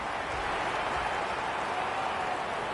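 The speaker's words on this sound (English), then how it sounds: "The crowd already making plenty of noise as the captains come together." Crowd noise in the AFL26 football video game, a steady broad hiss of distant cheering and murmur filling the stadium, even and unbroken throughout.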